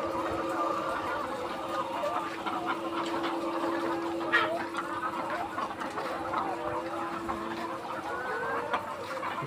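Dense, continuous clucking and murmuring of many layer hens fills a shed on a riverside layer chicken farm, with a steady mechanical hum underneath and occasional louder squawks rising from the flock.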